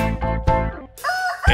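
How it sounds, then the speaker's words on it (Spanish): A spotted rooster in a Spanish-language children's farm song crows loudly over the music, giving a short rising call near the end. "El gallo pinto no se durmió y muy temprano fuerte cantó."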